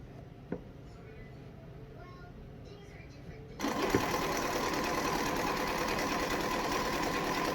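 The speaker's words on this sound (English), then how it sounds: "I'm going to sew that 1/4 inch seam allowance" A sewing machine runs steadily, stitching a quarter-inch seam on a quilt top; after a quiet stretch the dense motor whir starts abruptly and holds loud and even to the end.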